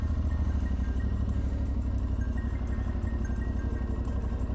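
An Aprilia Tuareg 660 motorcycle ridden at slow speed, its engine holding a steady, low, throbbing idle-like note close to the listener throughout, with no talk.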